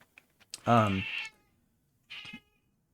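An indoor house cat lets out a loud, drawn-out meow up close, then a shorter second meow after a pause of quiet.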